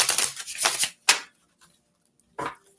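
Tarot cards are shuffled in a few quick papery riffling bursts close by, then a short pause and one final brief shuffle, with no talking.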